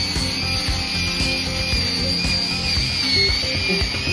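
An Arbortech mini grinder sands wood in a steady, loud, continuous whine with a gritty abrasive rasp throughout, heard up close with no talking.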